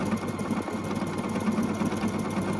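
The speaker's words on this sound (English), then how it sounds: "I'm going to lower my foot, and it's going to stitch the top part of my jack-o'-lantern." A Husqvarna Viking sewing machine stitches a jack-o'-lantern appliqué, a loud, steady, rapid mechanical whir and needle chatter running continuously at close range without pause or voices.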